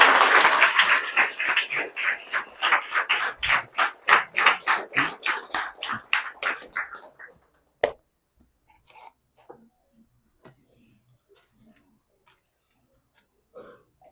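Audience at a staff meeting honouring an HR manager clapping together in quick, loud rhythmic claps that stop abruptly after about seven seconds, followed by a few scattered claps and quiet room noise.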